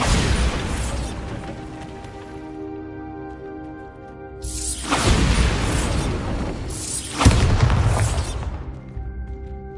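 Bombarda exploding spell effect in a Harry Potter video game: booming blasts with shattering debris, a sustained crash early on, then two more loud bursts around the middle and later, each followed by a rumbling decay.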